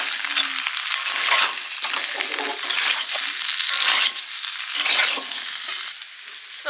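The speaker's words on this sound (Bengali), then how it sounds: "সবজি কষা হয়ে গেছে, মশলা এক এক করে দিয়ে দেবো।" Potatoes and cauliflower coated in ground turmeric, chilli and cumin fry in a pan, loud crackling sizzle rising and falling as the mix is stirred in repeated scraping passes, close and continuous with no talking.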